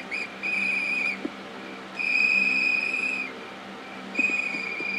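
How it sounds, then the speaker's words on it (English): Whistling in a Hello Neighbor hide-and-seek game: three sustained, clear whistled tones separated by short gaps, each held steady at one pitch over low background sound. "Stop whistling!"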